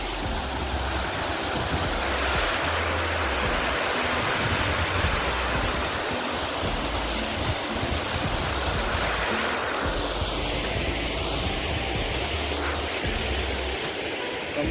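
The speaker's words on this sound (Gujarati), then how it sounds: "આવડી આ ડેમ ભરેલી છે મિત્રો અહીંયાથી પાણી જાય છે આ બારું આમ આ નદીમાં" Water from a full village dam surging out through the gate into the river after rain: a loud, steady roar of rushing water filling the whole stretch, close by and unbroken, with no talk.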